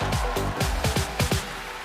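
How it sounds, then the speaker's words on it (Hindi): A studio audience on a comedy talk show breaks into loud, strong claps, a burst of about six sharp hits in quick rhythm, close and prominent, with no talking over them. "शर्मा के लिए एक बार जोरदार तालियां हो जाए"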